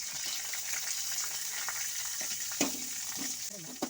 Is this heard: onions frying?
yes